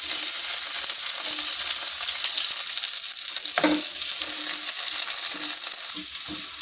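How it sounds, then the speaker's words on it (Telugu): Onions frying on high flame in hot oil for gobi manchurian, a strong steady sizzle with a few spatula scrapes and stirring knocks, easing slightly near the end, no speech. "దీంట్లో ఫస్ట్ ఉల్లిపాయలు వేసేసుకుందాం."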